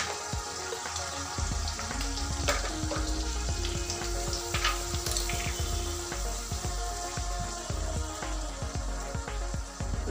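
Paneer curry ingredients sizzle and fry steadily in a kadai, with a continuous crackling hiss and scattered sharper pops and clinks of stirring running throughout, close and fairly loud with no talking.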